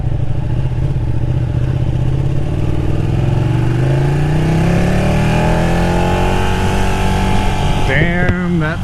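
Stock-exhaust Ducati Panigale 959 sport bike, engine revving as it pulls away: a loud, rising mechanical howl with several climbing pitch sweeps, close to the rider, a sharp throttle blip near the end, with brief talk over it.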